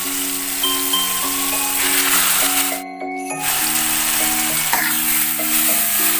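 Ground meat from the freezer added to a hot frying pan for a tortang talong dish, giving a loud steady sizzle with a brief drop midway and faint clinks of the pan.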